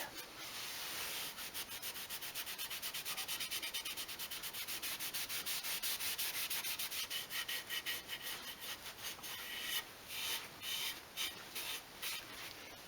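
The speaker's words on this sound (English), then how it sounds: "when I was actually sanding the body down" Rhythmic, close-up sanding of a wooden Les Paul guitar body: steady back-and-forth abrasive strokes that become shorter and more spaced out toward the end. No voices.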